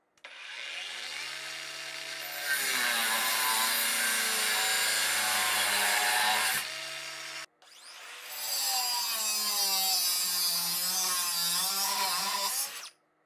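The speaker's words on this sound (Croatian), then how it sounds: "Za poređenje Parkside aku brusilica, 6. brzina, 4 amper sata baterija." A Parkside cordless angle grinder on speed 6 with a 4Ah battery makes two long cuts, a loud close whine that drops in pitch under load, pauses briefly, then spins up again.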